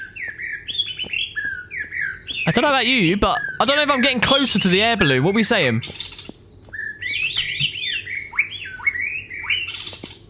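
Recorded bird calls in an indie horror video game: loud, busy chirps, tweets and warbling squawks that swell into a dense burst of song midway, while a person talks over them.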